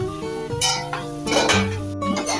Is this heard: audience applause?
no